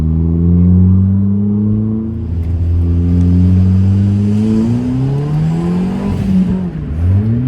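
A car engine revs hard under full throttle on a highway with a 100 speed limit, rising harmonic tones climbing steadily through the gears, loud and close throughout with a brief drop and shift near the end.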